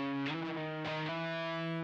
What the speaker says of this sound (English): Back to that distortion guitar.